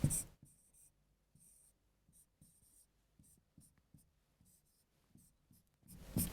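Pen strokes on paper while a puzzle solution is written out: soft, quiet scratches and taps in irregular bursts, close to the mic, with brief louder rustles at the start and end and no talking.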